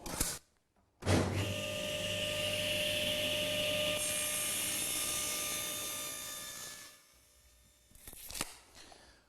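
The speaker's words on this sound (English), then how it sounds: "to cut the other end, I just flip the board over, set the fence to 680, and away we go" A saw cutting the other end of a wooden board for a tapered cabinet, a loud steady whining cut that starts abruptly, holds for several seconds, then winds down, followed by a short clatter.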